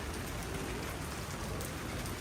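Steady rain pours down during the Sanja Matsuri festival in Tokyo, a dense, constant hiss of drops hitting surfaces nearby with no talk over it.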